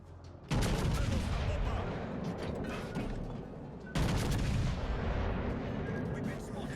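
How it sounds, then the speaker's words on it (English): Naval guns on the ship Victoria in World of Warships: Legends fire two heavy, loud salvos a few seconds apart. Each is a sharp blast that fades into a long rumbling decay. "All stations, concentrate fire on the target."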